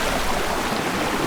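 Fast-flowing water rushes in a close, loud, steady broadband hiss, heard alone over a short stretch.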